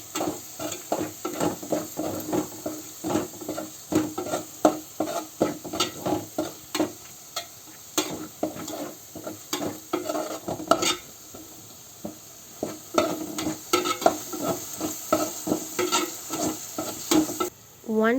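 Green chicken masala sizzles steadily in a frying pan while a spoon stirs and scrapes through it in quick, irregular strokes, loud and close throughout with no talking.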